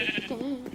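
Sheep in Minecraft bleat in a short wavering cry, close and clear, with faint game sounds around it.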